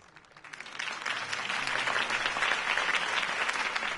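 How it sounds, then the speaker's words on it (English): A crowd claps steadily and fairly loudly, the applause swelling quickly from a soft start and holding at an even level. "could have heard that applause"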